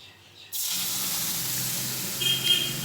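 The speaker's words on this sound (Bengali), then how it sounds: "ফোড়নগুলো হালকা নাড়াচাড়া করে দিয়ে দেব মশলা গোলা জলটা।" Spice-mixed water poured into hot oil with bay leaf and cumin tempering erupts into a sudden loud steamy hiss that stays close and continuous, swelling slightly toward the end.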